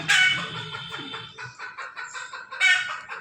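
Hens clucking close by, a run of short repeated clucks with a louder squawk at the start and another near the end.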